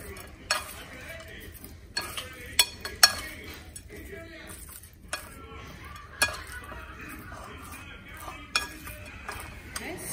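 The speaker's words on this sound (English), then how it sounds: "And let's mix this up" A spoon stirs cayenne pepper seasoning in a bowl, giving a series of close, sharp clinks and scrapes in an uneven rhythm with quiet gaps between them.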